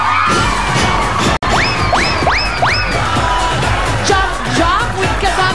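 A live studio crowd from Sampaloc, Manila shouts, whoops and cheers loudly and continuously during a jump on a noontime variety show, with rising yells and one sharp bang partway through.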